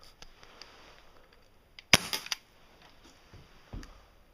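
Airsoft handgun fired outdoors at a basketball net: a few sharp, snapping pops, one loud cluster of cracks near the middle and a softer shot later, over quiet background.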